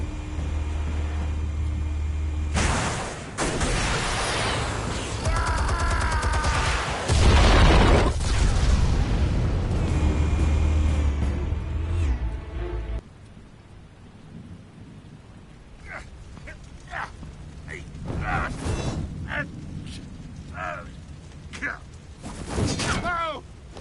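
Explosives detonate in a Batman video game, heavy booming blasts with a rumbling tail, followed by quieter scattered impacts and debris, with a voice talking in places.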